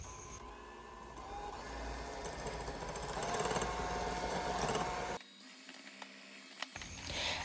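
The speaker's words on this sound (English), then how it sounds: "And just start to blend it together." Electric hand mixer whirring steadily as it blends brownie cake batter with eggs and mayonnaise, loud and continuous for about five seconds before cutting off, then a few faint knocks.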